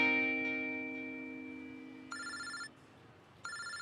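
In a Hindi-dubbed South Indian film, a fading electronic tone gives way to a telephone ringing in two short, trilling bursts separated by a brief pause, fairly close and clear.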